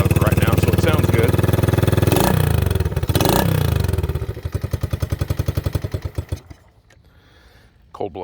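A 1971 SL70 motorcycle with its spark arrestor removed fires up on a cold start, roaring loud and close, then settles into a rough, uneven idle that sputters and fades.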